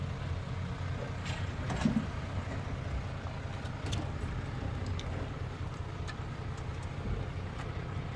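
A Suzuki vehicle's engine runs at a steady, low idle, a faint continuous hum with a few small clicks and knocks, heard alone without talk.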